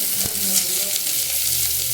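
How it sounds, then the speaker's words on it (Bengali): Chopped capsicum with onion and chilli sizzles and crackles steadily in a pan, close and continuous, with light stirring. "ক্যাপসিকাম কুচি এগুলো সব ভাজছি।"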